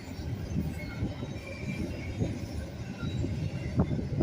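A Norfolk Southern or CSX freight train passes at close range with a continuous heavy rumble and rolling wheel noise. Faint metallic squeals rise over the steady roar, with no voices.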